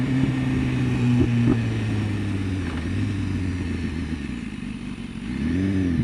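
A 2015 BMW S1000RR superbike ridden in rain mode with its quick shifter, the engine note droning steadily and rising and falling through gear changes, loud and close with rumbling wind noise.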